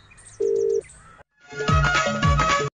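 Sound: phone ringtone

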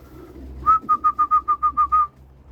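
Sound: racing pigeons cooing in a loft

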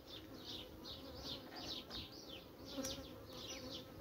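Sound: honeybees buzzing

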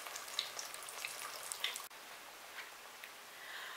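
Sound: cassava fritters frying in oil

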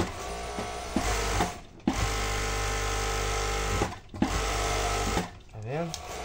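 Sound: sewing machine with hemming attachment stitching a seam

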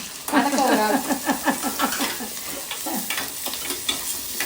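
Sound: onions frying in pan for crab curry

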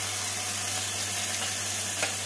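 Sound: spices frying and being stirred in a pan

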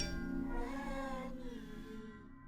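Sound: plush toy cat meowing in video game The Baby in Yellow

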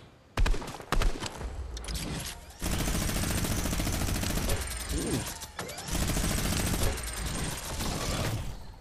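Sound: gunshots in Fortnite video game

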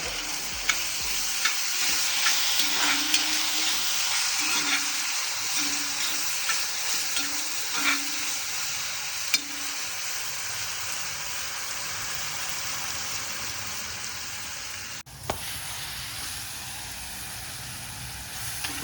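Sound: onions sautéing and being stirred in a pan

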